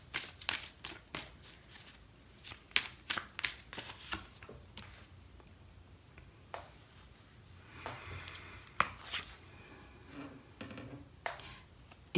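Tarot cards shuffled by hand in a reading, giving a run of crisp riffling flicks and slaps, quick and rhythmic at first, then sparser, close up and alone with no talk.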